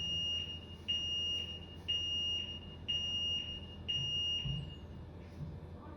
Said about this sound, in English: this beeping is just a warning for them that they need to get out